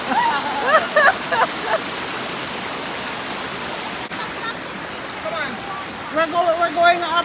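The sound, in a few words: waterfall on a river in Jamaica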